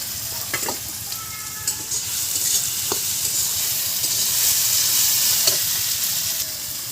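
Garlic paste and chopped tomato fry in hot oil with a loud, constant hissing sizzle, punctuated by a few sharp spatula scrapes and taps as the mixture is stirred.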